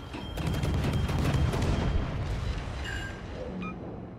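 Enemy blind fire in a video game, a dense, continuous barrage of gunshots and booming impacts that stays loud throughout, thinning slightly toward the end.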